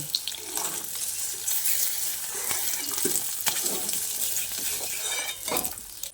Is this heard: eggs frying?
yes